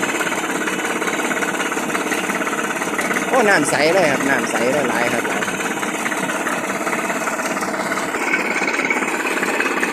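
A groundwater well drilling rig's engine runs steadily and loudly throughout, a continuous mechanical drone with rapid hammering, while someone talks over it.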